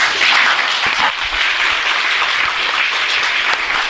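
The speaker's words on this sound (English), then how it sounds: "I am not happy with your clapping." An audience at a personality development talk in Hyderabad claps together, a loud, dense and steady roll of many hands that carries on for several seconds with no speech over it.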